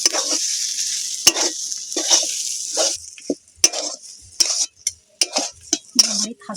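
Ground roasted spice mix going into a banana flower curry, stirred through with a steady sizzle and bright scraping strokes of a spoon against the pan, growing choppier and more broken toward the end.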